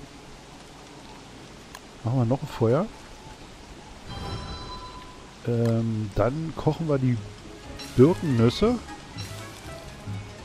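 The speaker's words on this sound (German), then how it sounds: "Schon wieder Regen." Steady rain hiss from the video game Don't Starve: Reign of Giants runs low and even through the clip, with someone talking over it and short game effects breaking in now and then.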